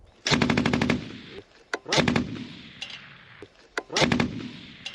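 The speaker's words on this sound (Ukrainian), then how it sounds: "Постріл по білій машині." Loud bursts of rapid automatic gunfire, three sustained volleys with short gaps, each a fast string of sharp cracks with single shots between.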